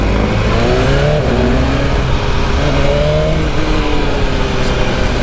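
A BMW M1000RR sport motorcycle engine drones steadily while being ridden through traffic, with rising and falling engine tones under continuous wind and road noise.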